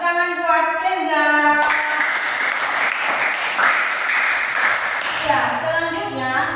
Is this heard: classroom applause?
yes